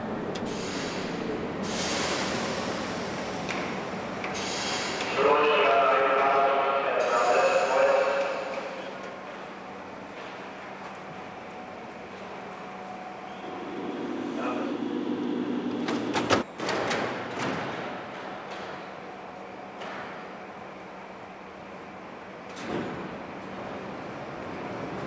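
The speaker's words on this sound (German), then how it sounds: "Einfahrt in den Bahnhof Zoo." An old Berlin S-Bahn train pulls into Zoo station, a rising rumble and hiss building mid-clip with a sharp clank near the middle, surrounded by station noise and brief stretches of voices.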